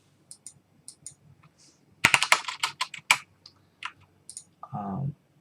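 Typing on a computer keyboard while entering values in Archicad: scattered light key taps, then a fast cluster of sharp clicks, a few more taps, and a brief low voice at the end.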